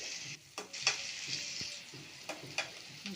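Bitter gourd pieces fry in a pan with a continuous hiss of hot oil, punctuated by several sharp scraping strokes from a stirring spoon, close and clear.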